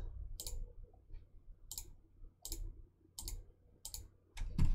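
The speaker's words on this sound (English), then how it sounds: "You can go ahead and you can click the dice button to randomize a single element." A computer mouse clicks the dice button in a character customizer, giving several sharp, separate clicks at irregular intervals against quiet background hum.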